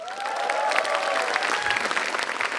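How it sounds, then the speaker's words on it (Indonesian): Audience applause at a stand-up comedy show, a steady dense clapping crowd that stays loud throughout, with a faint tonal whistle-like note running beneath it. "Sekali lagi boleh tepuk tangan buat Oki Rengga."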